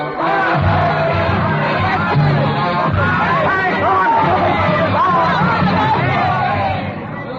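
A mob of rioters carrying pikes fills a Paris street, the Rue Saint-Nicaise, in a radio drama. A loud, dense roar of shouting and chanting voices keeps up without a break, with occasional louder yells rising out of it.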